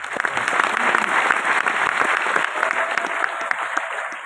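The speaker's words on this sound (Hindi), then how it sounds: "एक ताली हो जाए उनके लिए" Steady, fairly loud crowd applause at a seminar gathering, made of many overlapping claps that hold for several seconds at an even level.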